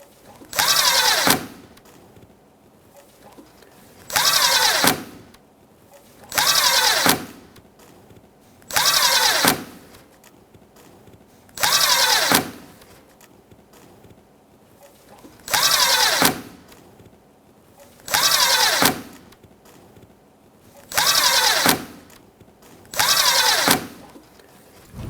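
A power tool snugging bolts and clips along the grille of a 2016-2023 Honda Pilot, about ten short, close whirring bursts at a steady pace with quiet pauses between them.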